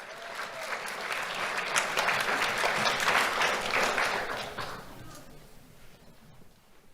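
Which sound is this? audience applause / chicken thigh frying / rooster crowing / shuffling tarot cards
audience applause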